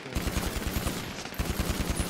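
Rapid automatic gunfire in a video game, two sustained strings of closely spaced shots separated by a brief pause, loud and steady with no talking.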